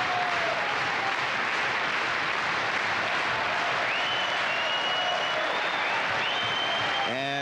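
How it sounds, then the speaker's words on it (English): A concert hall audience at a 1986 gala stands and applauds, a dense, loud, steady wash of clapping filling the whole stretch, with faint tonal hints of music or voices threaded through and a brief tonal swell at the very end. "all the members of the audience here standing and applauding rhythmically"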